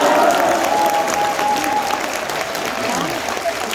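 A large crowd at a People Power Party members' rally cheers and applauds loudly and without a break, the clapping and shouting fading slightly toward the end.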